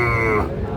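A Sahiwal bull calf at a busy cattle market lets out one loud, close, drawn-out moo that fades toward the end.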